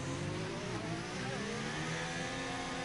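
F1 race cars running side by side into the first turn of a Bahrain race in a racing video game, engines droning steadily and loudly throughout with a continuous mid-pitched whine.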